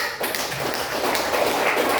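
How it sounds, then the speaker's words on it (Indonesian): Students in a classroom applauding in unison, a steady wash of many hands clapping at moderate loudness for about two seconds, with no talk over it. "Sudah tepuk tangan semuanya"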